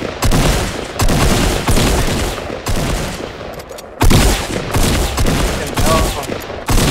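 Repeated bursts of rapid gunfire from the video game Fortnite, loud and close, with sharp volleys around every second and a heavier burst near the middle, a few voices faintly underneath.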